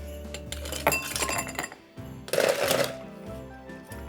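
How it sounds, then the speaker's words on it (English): Ice cubes clink and tumble into a cocktail glass as it is filled for a gin drink built directly in the glass, with two bursts of bright rattling clatter separated by a brief pause, close and fairly loud over a faint low hum. "So take a glass, fill it with ice."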